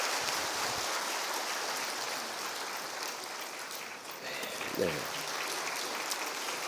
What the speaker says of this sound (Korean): 뜨거운 박수로 우리 축하하십시다.